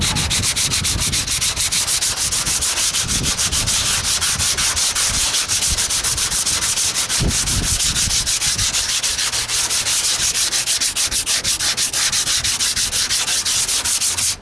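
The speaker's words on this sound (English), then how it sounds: "Just some 80 grit to take this out of this curve spot." Hood of a 1968 AMC AMX being hand sanded with 80 grit paper on a stiff block, a continuous loud rasping scrape in rapid back-and-forth strokes, close up with no talking.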